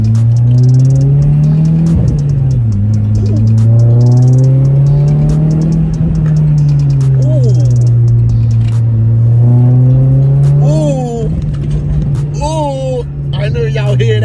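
A car engine fitted with a K-Tec Racing panel filter revs up and down in long rising and falling sweeps, loud and close, with a person talking over it and sharper bursts of throttle near the end.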